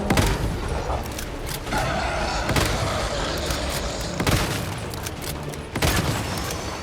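A boss in the video game Once Human fires continuous rapid gunfire at the player, dense bursts and heavy thumps over a constant roar of combat noise.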